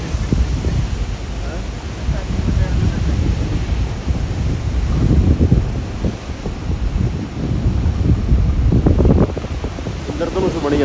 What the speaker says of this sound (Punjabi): ਪਾਣੀ ਪੂਰੇ ਪੜਾਕੇ ਪਾਉਂਦਾ ਜਾਂਦਾ